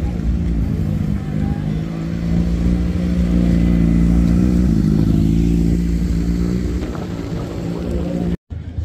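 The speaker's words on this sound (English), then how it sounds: "Motorbike." A motorbike passes at a busy outdoor car show at Carrara Markets on the Gold Coast, a steady loud engine drone with low rumble that holds for most of the stretch before cutting off abruptly near the end.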